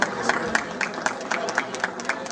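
An audience at the Faiz Mela in Stockholm breaks into applause, a steady patter of claps with sharper individual hits standing out, mixed with murmuring voices.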